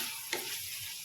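Pointed gourd (potol) sautés in a pan for a light vegetarian curry, with a brief, close frying hiss and a single stirring scrape, and no talking.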